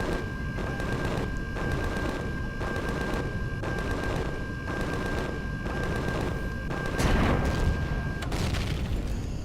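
Ship turrets in Empyrion Galactic Survival auto-fire in a steady, rhythmic series of heavy booming shots, around a dozen evenly spaced bursts over a constant mechanical hum, with a louder blast near the end.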